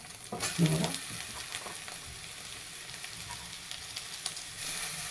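Tomatoes drop into a frying pan for moth bean curry, setting off a brief clatter followed by a soft, steady sizzle with faint stirring taps.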